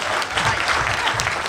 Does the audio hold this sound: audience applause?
yes